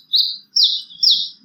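A female woodpecker calling, three sharp bright chirps evenly spaced about half a second apart, loud and close against a quiet background.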